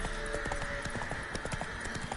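A horse gallops in The Witcher 3, its hooves beating fast and steadily in a continuous clip-clop throughout. Game ambience and a faint tonal hum sit underneath, and no speech is heard.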